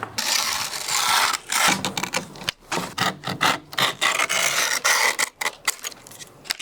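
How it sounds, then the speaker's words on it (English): Skateboard grip tape edges sanded down in uneven rasping strokes, loud and close, with irregular bursts and brief gaps. "I'm gonna sand down some of the edges so it doesn't curl over."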